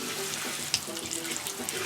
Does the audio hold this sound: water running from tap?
yes